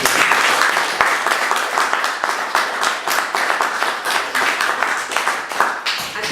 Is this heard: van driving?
no